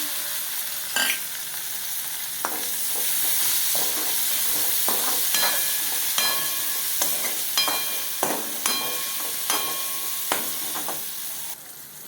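Chopped bitter gourd pieces fry in a hot pan with garlic, giving a continuous sizzle broken by repeated scraping clicks and knocks of a stirring spoon, close and fairly loud, with no talking.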